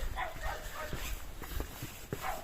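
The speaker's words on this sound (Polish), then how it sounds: "Nasze psy zwariowały. Zaczynają strasznie szczekać." Dogs bark repeatedly from a camper van parked near Czocha Castle in Lower Silesia in winter, a string of sharp, fairly close yelps and barks over steady background noise.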